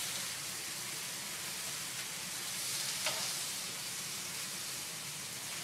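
Sleeping bag chicken sizzles in a frying pan, a faint steady hiss of frying with a small pop partway through, no talking.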